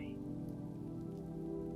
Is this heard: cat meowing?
no